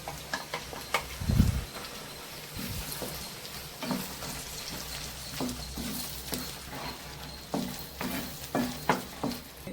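Ground tomato paste goes into garlic frying in oil for a tomato garlic pickle, sizzling and bubbling with a splash, then repeated scraping stirs at an uneven rhythm, close and moderately loud.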